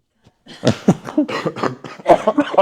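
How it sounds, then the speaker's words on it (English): A close burst of several coughs in quick succession, rough and throaty, with uneven gaps between them. "I've been holding that cough for the longest."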